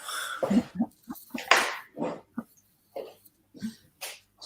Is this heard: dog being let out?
yes